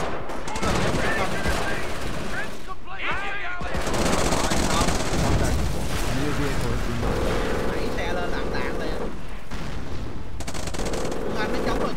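Rifle fire and bursts of gunfire crackle through a battle in the strategy video game Company of Heroes, dense and near, with a voice talking over the shooting.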